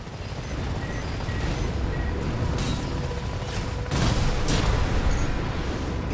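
Gunfire in Armored Core 6, rapid mechanical bursts and heavy blasts over a dense roaring rumble, with sharp impacts clustering toward the second half and brief metallic pings throughout.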